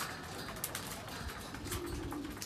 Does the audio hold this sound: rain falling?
no